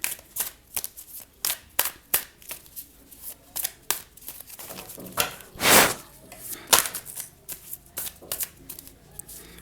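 Tarot cards being shuffled by hand close up, a run of crisp riffling flutters and soft slaps in an uneven rhythm, with one longer riffle partway through.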